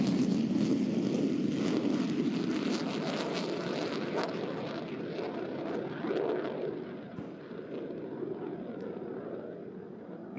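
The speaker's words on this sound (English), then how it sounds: "F-35C photo pass." An F-35C stealth fighter jet makes a photo pass at an air show, a broad distant roar that swells and slowly fades over ten seconds, fairly faint and steady.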